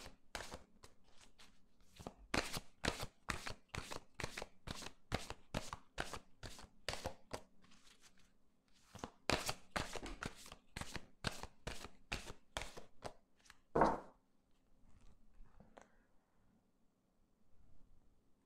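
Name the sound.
shuffling Petit Lenormand cards for a reading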